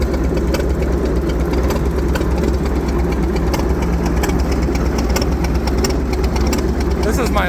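A McCormick Deering 10-20 tractor engine idling on its idle jets with a Holley carburetor, a steady loud rough chugging that runs without a break, close up, with a voice talking over it.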